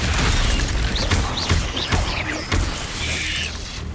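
A Confringo fire spell from Hogwarts Legacy bursts with a heavy, booming blast, followed by a few quick crackling impacts and rumbling combat noise, loud and close throughout.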